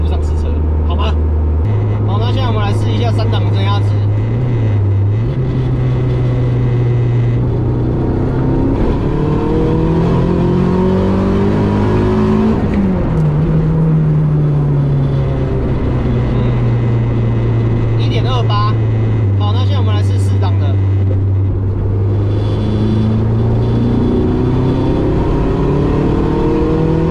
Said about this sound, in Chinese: 那现在我们来试一下三档的增压值